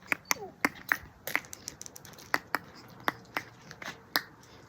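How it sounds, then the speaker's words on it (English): Finger clicks used to call a fluffy dog indoors at home, a dozen sharp close snaps in an uneven rhythm with brief pauses between them. "I communicate by clicking."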